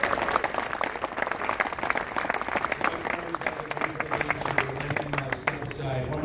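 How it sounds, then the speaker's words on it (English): An audience at a Cardinals Care grant presentation ceremony applauds Trevor Rosenthal, with sustained clapping from a crowd and voices talking over it, fading slightly near the end. "Please give a round of applause."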